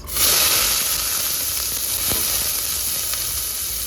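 Onion sizzling and frying in hot oil with cinnamon, cloves and bay leaf for a vegetable kurma, a steady close hiss throughout with faint stirring, no talking.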